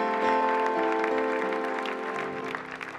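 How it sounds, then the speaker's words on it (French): A church congregation clapping together during a service, a dense, sustained applause close by that gradually thins toward the end, with no voices over it. "On acclame encore Dieu."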